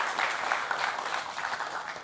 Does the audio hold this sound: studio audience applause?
yes